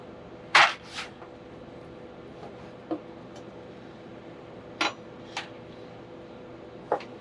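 A knife cuts pork belly into cubes on a board, giving a few sharp, sparse knocks spaced irregularly, close and clear against a quiet background, with no talking.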